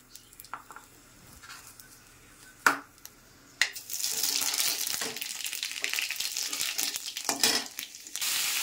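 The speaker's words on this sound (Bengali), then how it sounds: "তেলে দিয়ে দেবো শুকনো লঙ্কা আর এক পাঁচফোড়ন" Dried red chillies and panch phoron hit hot oil for a spicy tomato and raw tamarind chutney, bursting into a loud, steady sizzle after a few sharp clatters, crackling on close by with no talk.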